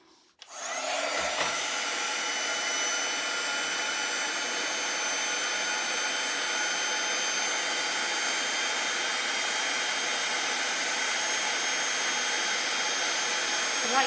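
A handheld heat tool melting embossing powder on a greeting card, a steady, loud blower-like whoosh that starts abruptly after a brief quiet moment and runs unbroken to the end.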